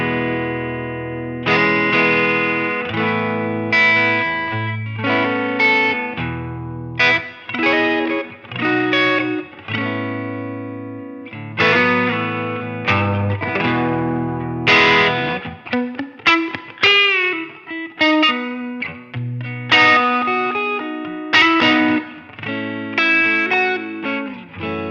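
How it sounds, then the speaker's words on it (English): Electric guitar played through a Line 6 HX Stomp XL modeler using a Fender amp model with light distortion and plate reverb, strummed chords and melodic runs ringing out with a shimmering, reverberant tail, no talking. "basic patch with one of the Fender amps and a little bit of distortion and a plate reverb"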